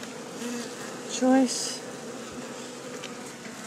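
Honeybees buzz in a crowded wild hive packed into a small box, a close, steady insect drone with one brief louder swell partway through and faint talk underneath.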